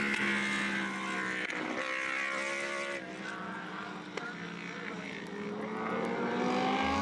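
Superbike racing motorcycles, including a Kawasaki, overtake on a wet track in the GP Bikes video game. Loud, high engine whines rise and fall in pitch as the bikes pass close by, with a steady roar underneath.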